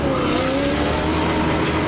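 Tires of a Ford Mustang Mach 1 muscle car spinning and squealing under a roaring engine, a loud continuous screech held close for the whole short stretch.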